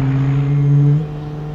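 A car engine in sixth gear in a street racing video game: a steady, muffled low drone that holds its pitch, then eases off slightly near the end, with no talking.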